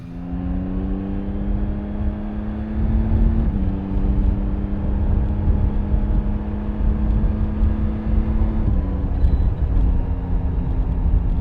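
Used motorcycle ridden out on the road, its engine a steady loud drone with a gear change partway through and the pitch settling again, running alone without talk.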